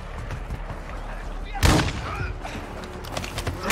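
Rapid gunfire erupts during a firefight in the video game Call of Duty Modern Warfare II, with a loud burst midway over a dense, constant background of battle noise and scattered shots.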